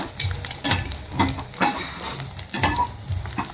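Water cooks off in a pan with spices, giving a steady close sizzle and bubbling frying sound, broken by repeated scraping stirs of a utensil against the pan, with no voice.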